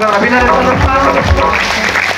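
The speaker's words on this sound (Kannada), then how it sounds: "ಒಂದು ಜೋರ ಚಪ್ಪಾಳೆ" Loud audience applause breaks out at a direct selling business event, a dense wash of clapping with some voices mixed in.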